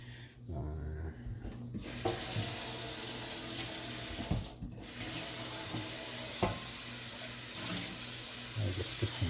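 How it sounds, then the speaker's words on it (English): Water runs steadily from a kitchen tap into a cooking pot, a continuous close hiss and splash after a brief quieter start. "I'll just put some water here."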